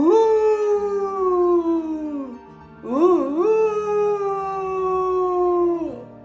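A human voice imitates a dog's howl, drawing out two long, wavering falling howls with a short pause between them.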